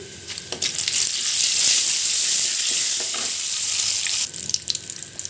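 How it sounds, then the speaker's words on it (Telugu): Lentils frying in oil with dried red chillies for a tempering give a loud, continuous sizzle, with occasional stirring scrapes and no talking. "ఈ పప్పుల్ని మాడకుండా మంచి కలర్ వచ్చే వరకు వేగనిచ్చుకోవాలి"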